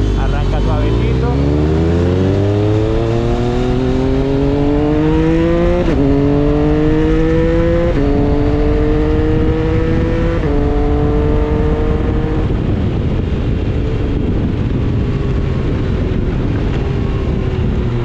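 A motorcycle in Sport mode accelerates and pulls away, its engine note climbing in pitch through repeated rising sweeps with brief shift drops, loud and close against heavy wind noise.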